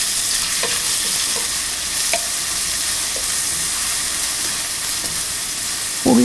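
Onions and salt frying in hot oil for liver fry, giving a steady, loud hiss of sizzling close by, with a few light stirring scrapes and a sharper burst at the end.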